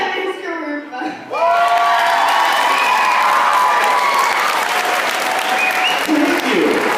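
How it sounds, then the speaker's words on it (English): Sustained audience applause with some cheering fills the room, loud and steady after a brief quieter moment at the start. "You realize that applause is here because you had a delay this morning."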